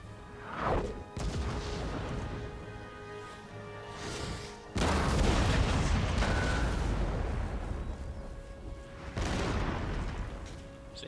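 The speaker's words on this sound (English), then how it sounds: "So yeah, pretty deadly exchange there of cannon fire." Cannons exchange fire in the video game Empire: Total War, with several heavy booming blasts and crashing impacts spread across the stretch, loud and rumbling, with no speech.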